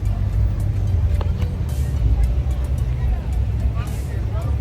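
Constant low rumble of a car crawling through Calgary traffic, heard from inside the cabin with occasional faint voices beneath the steady road drone.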